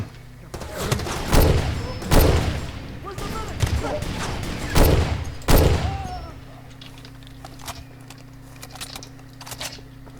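Far Cry 2 video game gunfire rattles in several loud, close bursts of rapid shots over the first six seconds, then the combat goes quiet with only faint sounds. A voice can be heard at times among the shots.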